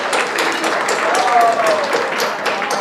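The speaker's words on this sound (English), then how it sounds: "Let's give her a big round of applause for starting us off here tonight." A room of guests at a charity gala auction gives a sustained round of applause, dense and even clapping with faint voices mixed in.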